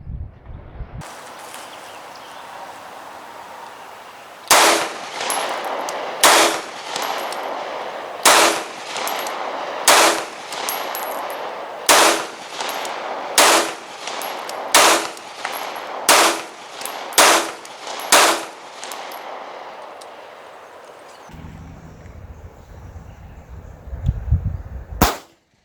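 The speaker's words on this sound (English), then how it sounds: "now we're going to shoot 10 rounds at 10 feet" Pistol shots from a Walther PPQ SC and a Beretta PX4 Storm SC at an outdoor range: around ten sharp, loud reports at irregular intervals of one to two seconds, each with a short echo, and handling noise at the end.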